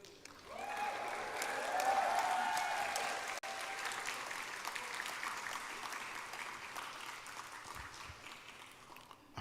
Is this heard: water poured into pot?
no